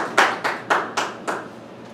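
Five sharp hand claps at a measured, even pace, close and clear, each with a short fading tail in a hall during a Tamil-language society meeting in Riyadh.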